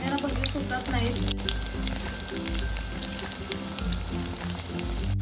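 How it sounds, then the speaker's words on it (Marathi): Spring onion bhaji fritters frying in hot oil give a steady, close sizzle and bubbling that runs the whole time, with a voice talking over it. "इथे तुम्ही पाहू शकता अगदी लगेचच हे भजी फ्राय होतात।"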